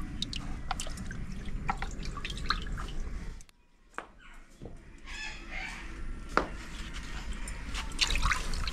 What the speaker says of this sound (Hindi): थोड़ा सा रह गया था तो हमने सोचा इसके अंदर धो लें इसे अच्छी तरीके से